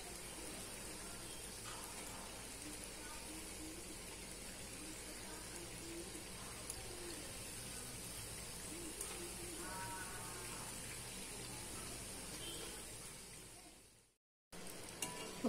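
Poha (aval) murukku frying in hot oil over a medium flame, a steady, close crackling sizzle that runs evenly throughout, breaks off briefly near the end, then returns.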